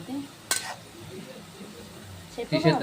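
Pieces of bitter gourd roasting in a pan, with a scraping stir near the start and a louder clattering stir at the end over a low sizzle, while people talk quietly.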